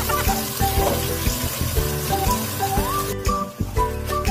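Hot dogs frying in olive oil in a heated pot, a steady close crackling sizzle with occasional stirring clatter and faint background music.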